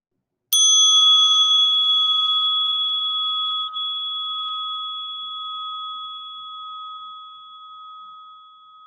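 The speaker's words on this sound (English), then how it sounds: "place your attention on the sound of this Tibetan bell" A single Tibetan bell is struck once, leaving a clear, sustained ring that slowly fades over several seconds in otherwise quiet surroundings.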